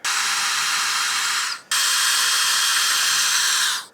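A power drill drives screws into a DIY skate spot build, giving two sustained high-pitched whirring bursts close by, the first breaking off briefly before the second runs on and winds down.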